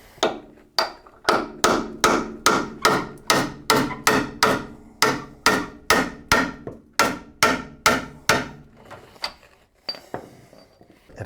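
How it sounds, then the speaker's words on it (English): A hammer strikes an extension bar again and again to knock a stuck sway bar shaft free on a neglected truck front suspension. The sharp metallic blows come about twice a second, loud and close, then slow down and stop. "we're going to go ahead and take a extension and a hammer and try and knock it free"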